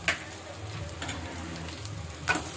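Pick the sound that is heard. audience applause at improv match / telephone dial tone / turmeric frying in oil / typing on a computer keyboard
turmeric frying in oil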